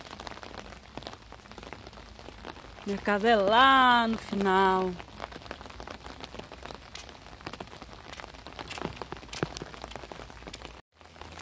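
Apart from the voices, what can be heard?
rain falling on a street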